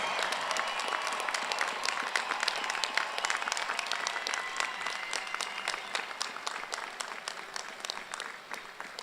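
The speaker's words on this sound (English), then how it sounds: "Let's give one more round of applause to all of our brand new Horned Frog graduates" Sustained applause from a convocation audience honoring new science and engineering graduates, steady dense clapping filling the hall for several seconds with no talk over it.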